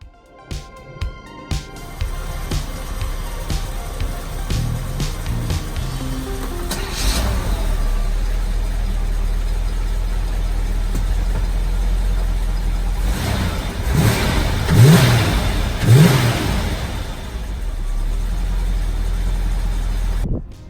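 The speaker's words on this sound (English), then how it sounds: "You can hear she's running pretty good. Throttle is nice and snappy and responsive" A 1986 Pontiac Trans Am engine idles with a low steady rumble, then takes a few sharp throttle blips that rise and fall quickly, heard close up in a workshop.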